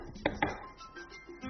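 A knife chops shrimp into small pieces together with ginger and cooking wine on a board, two sharp close chops followed by softer handling sounds.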